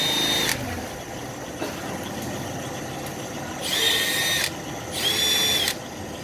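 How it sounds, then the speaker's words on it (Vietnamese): A Heller iron drill bit bores into material on a rail, giving a loud whining power-drill buzz in two rising bursts between quieter idling stretches, with no voices. "Mũi khoan ăn vật liệu rất là nhẹ nhàng chưa?"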